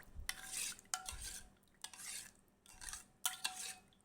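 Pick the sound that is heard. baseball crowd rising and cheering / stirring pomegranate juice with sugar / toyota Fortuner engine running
stirring pomegranate juice with sugar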